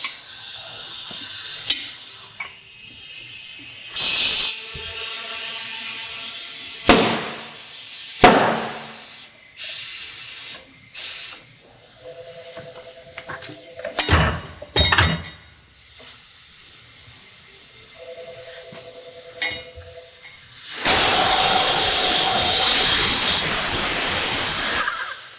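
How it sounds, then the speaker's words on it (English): Air hisses in loud bursts from a leaky tire inflator nozzle during a Michelin Power 5 tire install on a Yamaha R6 sportbike, several short sprays followed by one long hiss near the end. "Got a leaky nozzle here."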